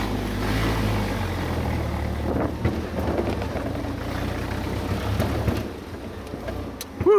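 WW2 Willys jeep engine pulling hard in first gear: a loud, rumbling low drone that holds steady, then eases slightly near the end, with road and wind noise over it.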